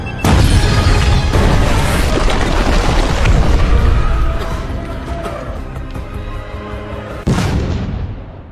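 A bomb blast in an action film, a huge loud boom rolling into a long rumbling roar that fades, then a second sharp burst near the end.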